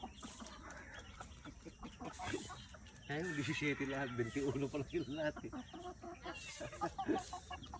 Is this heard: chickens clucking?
yes